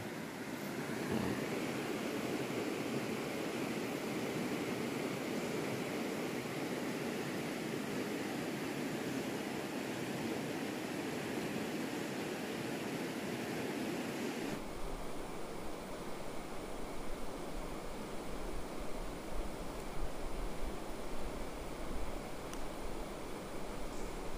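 A river runs beside a jungle camp with a steady, broad rushing of flowing water. The sound is continuous and fairly loud, and its tone shifts partway through.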